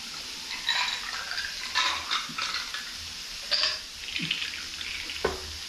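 Pork cooks on a Thai mukata grill pan with a soft, faint sizzle, broken up by intermittent clinks and scrapes of utensils against the pan.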